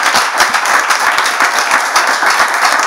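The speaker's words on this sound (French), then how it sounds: "On peut applaudir très fort" Loud, close audience applause in a French talk-show studio, dense rapid clapping with distinct individual hand claps sustained throughout.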